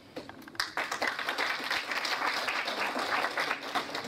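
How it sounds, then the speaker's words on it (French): A crowd at a political gathering applauds for Dynamique Congo, with dense steady clapping from many hands that holds evenly throughout. "Je demande que nous puissions applaudir nos amis de Dynamique Congo"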